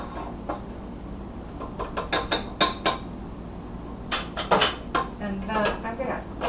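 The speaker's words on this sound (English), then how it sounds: "let me take my beater off here first" A metal beater being taken off an electric mixer in a home kitchen while baking chocolate cupcakes: a series of sharp clicks, clinks and rattles, close and moderately loud, over a faint steady hum.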